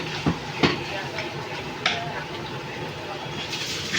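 Mutton mince cooks in a pan in a restaurant kitchen, with a steady sizzle broken by a few sharp clanks of a utensil against the pan, and a voice nearby.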